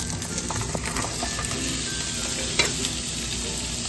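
Onions for bulgogi fry in a hot pan with a dense, steady, close sizzle, broken once by a brief clink of stirring.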